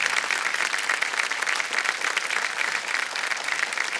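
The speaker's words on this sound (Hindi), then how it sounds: "जोरदार तालियां बज जाए पल्लवी जी के लिए।" A television quiz-show studio audience claps loudly and steadily for a contestant who has reached first place, a dense continuous wash of applause with no talking over it.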